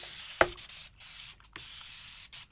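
Spray bottle misting water onto paper: one sharp, close hiss of spray, followed by quiet rustling and handling sounds.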